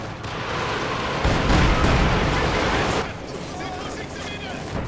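Dense battle noise in Company of Heroes 2, with bunker machine guns firing amid heavy rumbling gunfire and explosions, loud and continuous, easing slightly after a few seconds, with a voice talking over it.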